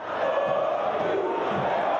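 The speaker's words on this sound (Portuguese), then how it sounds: "fez a torcida cantar na ressacada" Football supporters at the Ressacada stadium chant together in a brief, distant roar of massed voices that holds steady for the whole moment.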